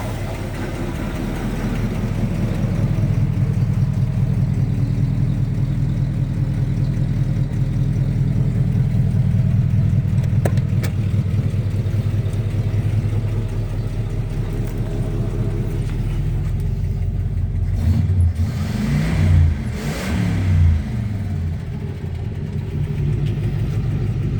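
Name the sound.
classic car engine idling and revving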